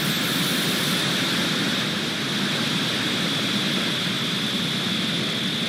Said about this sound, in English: Ignition. Engines full power. And liftoff of Starlink 6X-10.